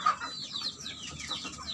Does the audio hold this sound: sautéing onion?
no